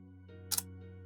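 Camera shutter pressed to start a long exposure for macro light painting of orbeez, a soft, brief double click in a quiet room over a faint steady hum.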